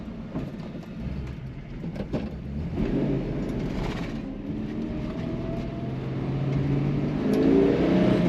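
A 1966 Ford Mustang coupe's straight-six engine with a three-speed manual revs up from a steady run, its noise swelling and rising in pitch toward the end, heard close and continuous with no talk.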